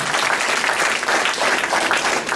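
Dense, steady audience applause from a room of trainers, loud and continuous throughout with no talk.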